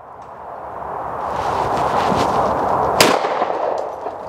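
A clay-target shotgun fires once about three seconds in, a single sharp crack standing out over steady broadband outdoor noise with no talking.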